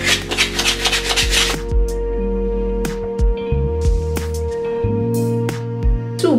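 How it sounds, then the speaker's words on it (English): Folded sandpaper rubs by hand along the edges of an ABS armour piece, giving close, steady scratchy strokes with short pauses and light taps, sounding alone with no talk. "I've got a piece fold it up and just gently sand those edges"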